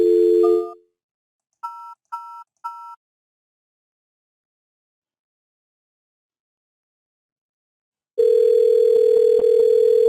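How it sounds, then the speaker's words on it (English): A telephone line on a DISA service: a short steady dial tone, three quick keypad dialing beeps, a long silence, then a steady tone returning loud and continuous. "Now we have received a dial tone, and with this dial tone we can dial out any call."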